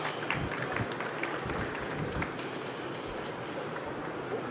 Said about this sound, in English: Please applaud to Mr.